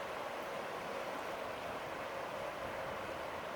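Steady broadband rushing of flowing water, constant and moderately loud with no breaks, a river running close by at Beavertail Hill State Park, Montana.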